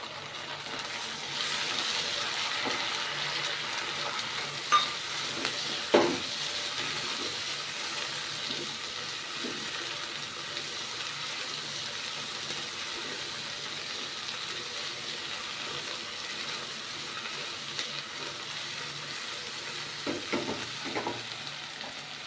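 Tomato frying in a pan while being stirred for soya pulao, a steady broadband sizzle running throughout with a few louder scrapes and clatters near the middle and end, no talking.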